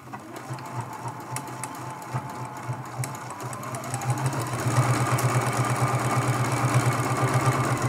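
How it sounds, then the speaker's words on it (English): A sewing machine stitches steadily around the edge of an appliqué Christmas tree ornament, its fast mechanical chatter running continuously and close, growing slightly louder and fuller partway through, with no talking. "We're going to be sewing right off the edge all the way around and doing a backstitch at the start and at the finish"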